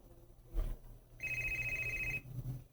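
A telephone rings indoors in a single steady electronic ring of about one second, fairly clear, between short stretches of quiet room noise and low rumbles.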